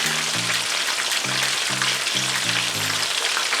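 Chicken drumsticks brown in a pan with a constant dense sizzle and crackle, while a low repeating tonal hum pulses underneath.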